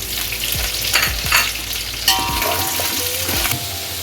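Beef sizzling and frying in a pan with garlic ginger paste and ground green chilies for pulao, steady crackle punctuated by several stirring scrapes and clinks, no talking.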